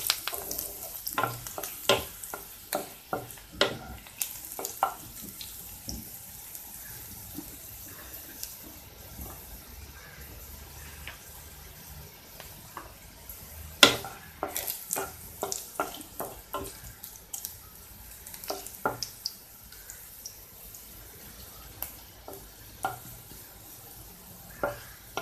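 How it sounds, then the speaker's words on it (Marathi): Onion being fried in a pan until dark and slightly charred for a shark fish masala, with a quiet sizzle and repeated sharp scrapes and knocks of a spoon stirring against the pan. "कांदा थोडासा काळपट करून घ्यायचा आहे, म्हणजे थोडासा करपवायचा आहे"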